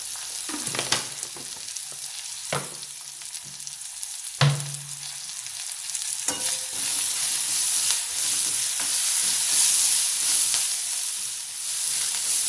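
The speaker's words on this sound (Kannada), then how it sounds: "ಜಾಸ್ತಿ ಏನು ಹುರಿಯೋದು ಬೇಡ, ಸ್ವಲ್ಪ ಒಂಚೂರು ಮೆತ್ತಗಾದರೆ ಸಾಕು." Capsicum and tomato fry in a pan with a steady sizzle throughout, broken by a few sharp clinks and scrapes of a spatula stirring the vegetables; no one speaks.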